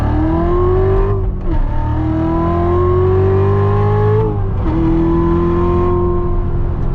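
A 2015 Chevrolet Corvette Z06 C7 with 650 horsepower accelerating hard from inside the car, its loud engine note climbing steadily through two quick gear shifts with no talking.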